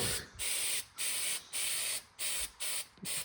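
A spray can lays a heavy coat of black paint over primer, sounding as six short close hissing bursts with brief gaps between them.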